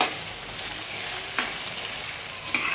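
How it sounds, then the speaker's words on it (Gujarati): Ginger-chili paste and onions sizzle steadily in a pan for a Mehsana-style dungliyu, a close, even frying hiss with a couple of brief scraping stirs. "થોડીવાર માટે આદુ મરચાંની પેસ્ટને સાંતળી લઈશું"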